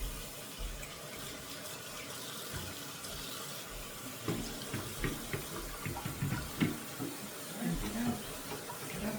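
Water runs steadily from a tap, a continuous splashing flow with some clattering and a voice speaking faintly nearby.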